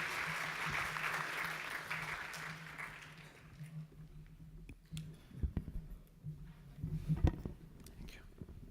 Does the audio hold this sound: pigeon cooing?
no